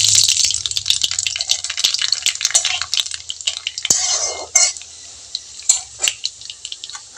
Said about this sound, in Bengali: কড়াই গরম হয়ে গিয়েছে, এখন আমি কালো জিরে যে ফোড়নটা দিয়ে দিচ্ছি।